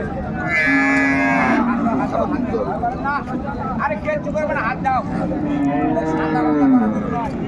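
A Sahiwal cow moos loudly nearby, twice, with people chatting in the background throughout at a cattle market in Raniganj.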